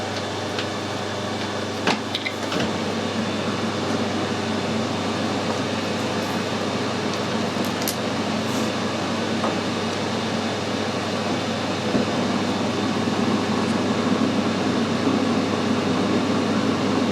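A metal lathe screw cutting threads into bronze, a continuous steady machine drone with faint scattered clicks and ticks throughout, no talking.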